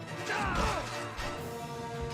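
A heavy axe strike from a Shadow of Rome boss slams into a character, a loud crashing impact with a sweeping whoosh, followed by a sustained rumbling game mix.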